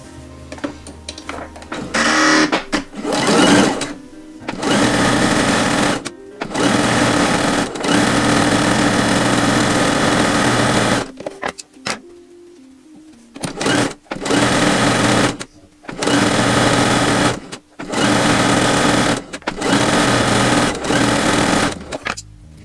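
A sewing machine stitches a folded fabric hem for a pinafore dress, running in loud, steady whirring bursts of a few seconds each, separated by short pauses as the fabric is repositioned.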